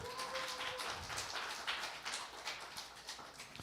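Congregation clapping at a church service after three singers perform, a dense, steady patter of many hands close by with no talk over it.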